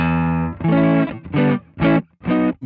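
A P90-equipped electric guitar plays a clean tone through the Twin Reverb preset of a Valeton GP-50: a sustained chord, then several short, separate strummed chords, loud and up close.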